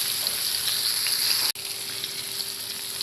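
Prawns sizzle steadily in a hot pan as they are fried crisp on the second side, a loud, close, continuous hiss broken by one brief dropout midway.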